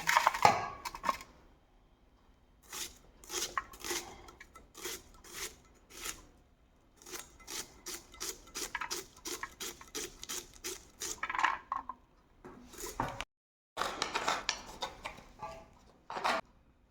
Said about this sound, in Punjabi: ਹੁਣ ਆਪਾਂ ਜਿਹੜੇ ਪਿਆਜ਼ ਆ ਉਹਨਾਂ ਨੂੰ ਵੀ ਲੰਬੇ ਲੰਬੇ ਸਲਾਈਸ ਦੇ ਵਿੱਚ ਕੱਟ ਲਾਂਗੇ